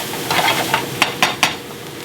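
Corn and peppers sizzle in a hot pan with a steady crackling hiss, broken by a few sharp clinks of a utensil stirring against the pan near the end.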